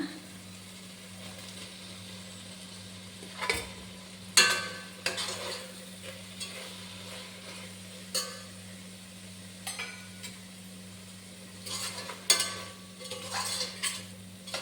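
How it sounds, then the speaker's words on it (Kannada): Paneer cubes fry in tomato masala in a single pot, a continuous low sizzle broken by repeated sharp scrapes and clinks of a spoon stirring against the pan, with a steady hum behind. "ಈ ಟೈಮಲ್ಲಿ ನಾವು ಸಣ್ಣದಾಗಿ ಹೆಚ್ಚಿರೋಂಥ ಪನ್ನೀರ್ ಕ್ಯೂಬ್ಸ್ನ ಹಾಕ್ಕೊಳ್ಳೋಣ"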